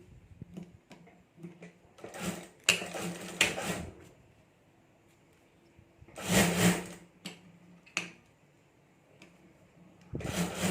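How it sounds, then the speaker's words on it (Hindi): A sewing machine stitching a clutch bag, with short bursts of fast mechanical whirring separated by pauses and small clicks as the fabric is handled, close and fairly quiet. "और अब यहाँ हमें सिलाई कर देनी है।"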